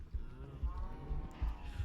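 Cows mooing in Minecraft, several low bellowing calls repeating over a couple of seconds at moderate volume, with no talk.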